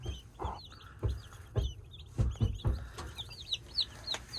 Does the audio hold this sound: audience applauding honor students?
no